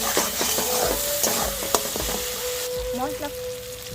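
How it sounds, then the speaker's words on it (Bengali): Spring onions fry in a pan with Maggi masala for egg kofta curry, a steady sizzle broken by repeated scraping stirs and a few clinks, close and fairly loud, with a faint hum running beneath. "আর দেবো 2-4 কচি পেঁয়াজ। ভালো করে আমি কষে নেব।"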